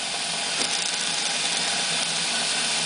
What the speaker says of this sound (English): RPM test once again of the Tesla Turbine 2-disc with 1/8 inch by 1/2 inch neodymium magnets in between